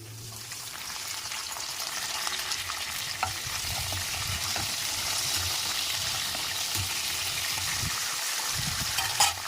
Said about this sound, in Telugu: పచ్చిమిర్చి కొంచెం ఫ్రై అయ్యాక కరివేపాకు వేసుకుందాం